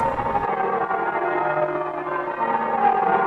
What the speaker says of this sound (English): The bells of the church are now at a winery in California. A recording echoes their sound in the past.